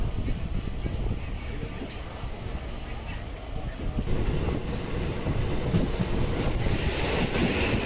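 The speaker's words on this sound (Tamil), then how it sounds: "இந்த Nilgiri super fast express daily operate பண்ணுற ட்ரெயின்." Nilgiri Superfast Express train running out of Chennai, heard from on board with a steady rumble of wheels on rails, rattling and faint squeals that grow louder halfway through.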